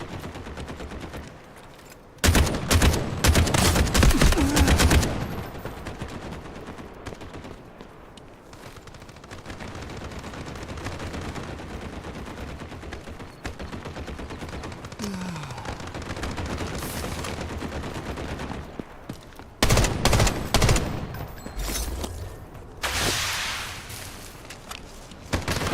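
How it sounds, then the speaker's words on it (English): Heavy gunfire in the shooter game Delta Force, with loud bursts of automatic fire and single shots coming near and far in several clusters over a constant battlefield din. "Lots of shooting going on."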